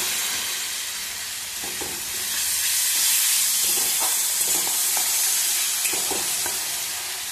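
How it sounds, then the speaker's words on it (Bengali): Fish jhal base of fried tomato with chilli, turmeric and salt is stirred in a hot pan, giving a loud, continuous hissing sizzle with faint scraping strokes underneath and no voices. "এবার এটাকে ভালো করে নাড়বো।"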